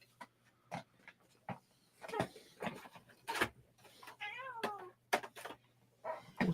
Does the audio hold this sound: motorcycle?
no